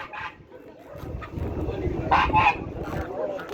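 Goose honking at a busy poultry market in Kyzylorda, a few loud honks rising over a crowd with voices talking nearby.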